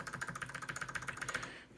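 Rapid, steady typing on a quiet low profile keyboard, a dense run of light clicking keystrokes close up that stops abruptly near the end, with no voices.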